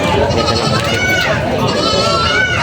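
Native goats bleating at a livestock market in Padre Garcia, Batangas, several overlapping wavering calls close by and fairly loud, with people talking over them.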